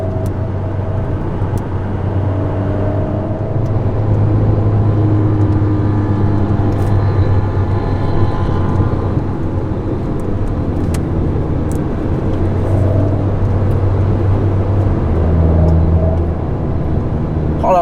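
Alpine Formula 1 and LMP2 race car engines drone steadily during a track parade with a loud, continuous low roar, pitches rising and falling as the cars move nearby.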